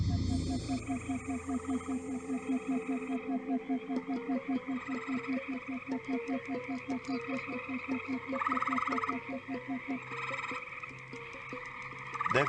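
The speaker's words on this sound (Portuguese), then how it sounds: "Devem se unir de 15 a 20 machos em torno do lago, coachando e esperando desesperadamente que a fêmea atenda ao chamado." A chorus of male green frogs croaking around a lake, a steady, rapid pulsing of low, twangy calls that overlap continuously, with higher insect-like trills and a narrating voice running beneath throughout.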